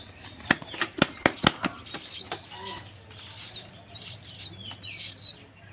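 Pigeon being held and fed egg from a syringe flaps its wings in several loud, sharp bursts close by, then lets out chirps and soft calls, with no talk.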